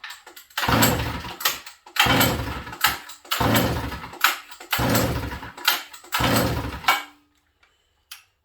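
A Sachs Dolmar 153 chainsaw, a 100cc engine with a possible carburetor fault, is pulled over repeatedly without starting: five loud, rhythmic rasping pull-cord strokes with short gaps, then quiet.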